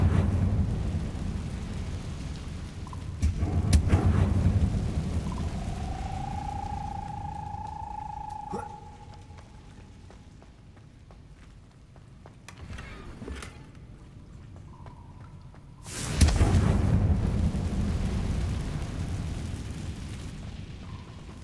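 Confringo spell fire in the game Hogwarts Legacy, with a rising whoosh followed by loud rumbling booms, a second heavy blast later, over low game ambience with no talk.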